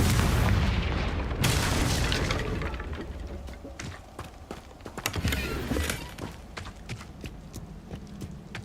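Confringo blast spells exploding in the Hogwarts Legacy video game: a loud, dense burst of booming blasts up front that fades into a rattling run of sharp impacts and crackling debris.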